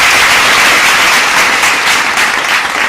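Award ceremony audience at a digital marketing awards event applauding, a dense, loud, continuous wash of clapping and cheering with no pause.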